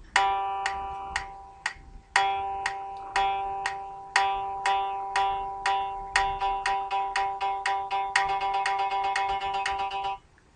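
Sixteen short, quick sixteenth notes fill a single bar, played as bright bell-like tones in a steady rapid pulse of repeated plucky hits, each decaying fast, with a sustained tone joining near the end.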